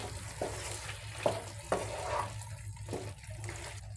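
A spoon stirring capsicum chicken fry in a pan, with repeated scraping strokes and clinks over a low sizzle, close and moderately quiet, no speech.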